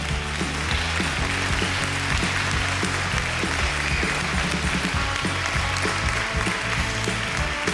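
Audience applause at a panel discussion event, dense continuous clapping from a crowd that stays steady and loud throughout.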